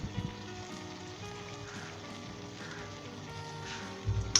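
Green chilli chicken (hari mirch murgh) frying in a pan, a soft, steady sizzle running throughout with low rumbling stirring underneath and a louder clatter at the end.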